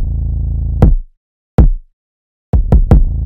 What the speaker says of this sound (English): Next thing was the 808, it sounds like this,